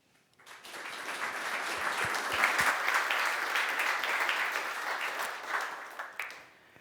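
Conference audience applauding to welcome a speaker at a tech talk: a steady wash of clapping from many hands that swells quickly, holds for several seconds and then tapers off, fairly distant and with no voices.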